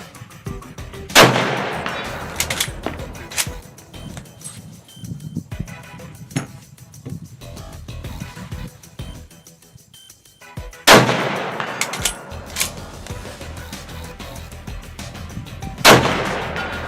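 An Arisaka Type 99 rifle fires light 7.7 mm handloaded rounds outdoors, with three sharp, loud shots spaced several seconds apart. Each report rings out with an echo, and faint handling noises fill the gaps between shots.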